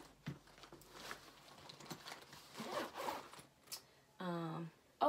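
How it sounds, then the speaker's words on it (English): Zippers close on the pockets of a flight attendant's work bag, with soft rustling and handling, then one quick, close, rasping zip pull near the end. "Then I zip up all my pockets."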